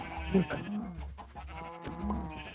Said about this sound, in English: Oh shoot, I killed another sheep.